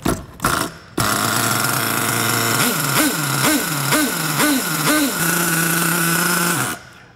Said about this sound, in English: So let's go ahead and get this engine up to operating temperature.